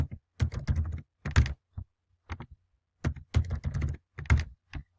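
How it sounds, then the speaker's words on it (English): A password being typed on a computer keyboard: close, crisp bursts of rapid key clicks in quick runs separated by short pauses, with no talk. "I'm just going to type something in."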